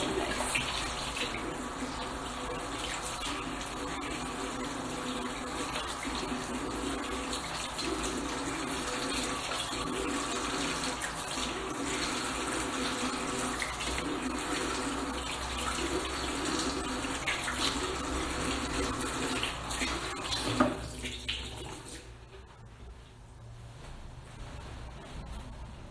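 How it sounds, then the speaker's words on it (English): Tap water runs steadily into a sink while someone washes her face, a continuous close gushing splash that cuts off near the end, leaving a quieter room. "And then I was washing my face."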